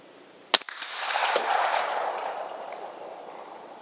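A single sharp crack from a Viper .22 rifle with night vision, followed by a long, fading outdoor echo that trails off over several seconds.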